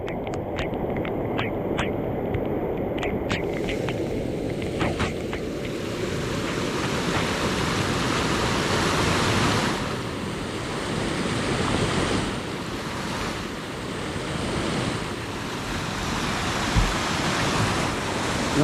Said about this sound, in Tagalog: Ganito po kalakas bumulyum ang tubig dito sa amin, eh.